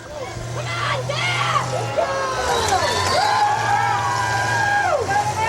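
A crowd cheers at the Lorain County demolition derby, a steady roar of voices and whistles that builds over several seconds while an announcer talks over it and engines rumble underneath.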